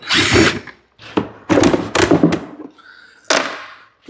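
A power tool backs Robertson screws out of a panel on a fire-damaged CF Moto Z Force 800, sounding as several loud, close whirring bursts separated by short pauses.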